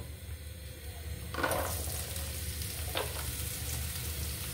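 Onions drop into hot oil for fish roe curry and sizzle steadily, with a louder burst of frying as they hit the pan, continuing as a close, even crackle without talk.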